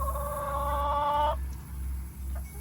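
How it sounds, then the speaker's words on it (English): Chickens cluck and call nearby in a backyard setting, a few drawn-out tonal calls over a steady low background hum, with no voices during the calls. "Come on, chickens."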